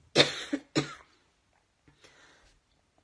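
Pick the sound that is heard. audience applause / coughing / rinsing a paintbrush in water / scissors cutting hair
coughing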